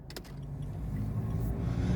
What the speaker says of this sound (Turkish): Şu şekilde gaz vereceğiz ve araba ilerleyecek.